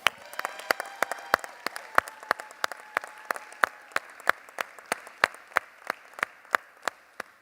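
An audience applauding the winners at a Sangamon CEO versus Sharks pitch event: a thin, steady round of clapping, close and evenly paced, with just a few people clapping in a regular rhythm.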